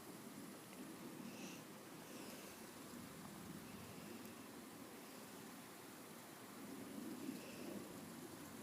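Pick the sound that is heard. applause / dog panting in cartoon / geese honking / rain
rain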